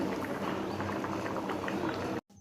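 Potatoes and peas bubble in a pot for ghugni, a close, steady simmering burble with soft popping that cuts off abruptly near the end.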